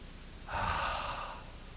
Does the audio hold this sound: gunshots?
no